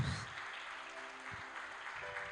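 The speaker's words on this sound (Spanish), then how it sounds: "Vamos, ese fuerte aplauso." Soft congregation applause at a church sermon, faint and distant, a steady patter with a faint tone in the background.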